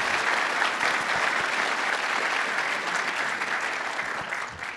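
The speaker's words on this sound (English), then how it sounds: "let's give them an applause" A conference audience applauds at a high performance computing welcome session, a dense, sustained roar of many clapping hands at steady loudness throughout, with no speech.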